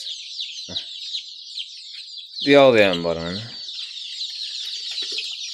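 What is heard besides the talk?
chicks cheeping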